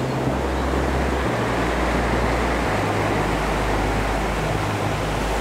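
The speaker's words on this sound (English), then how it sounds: "I love it when you can hear the rocks rolling under the waves." Loud, constant roar of ocean surf at Storms River Mouth, Eastern Cape, with a deep rumbling of rocks tumbling underneath, like distant thunder, with no voices.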